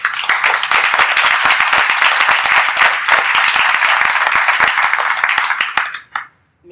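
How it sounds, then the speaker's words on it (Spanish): Audience at a talk on women in the Spanish Civil War and dictatorship claps loudly and close, a dense flurry of sharp handclaps lasting about six seconds before cutting off abruptly. "Así que os doy un aplauso a todas."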